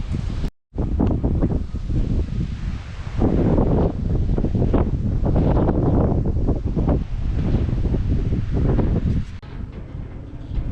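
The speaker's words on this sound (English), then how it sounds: "Now it's windy, it's dark." Strong gusty wind buffets the microphone with a constant roaring rumble outdoors on a dark evening at a paver-laying site, broken by one brief dropout near the start, and no voices.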